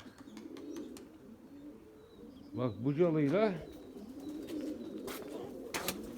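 Erzurum white pigeons coo in a short rolling burst close by, set against a faint background hum and scattered clicks, with someone speaking softly at the moment the cooing starts.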